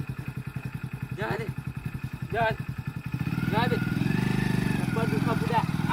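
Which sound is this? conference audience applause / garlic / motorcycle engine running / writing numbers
motorcycle engine running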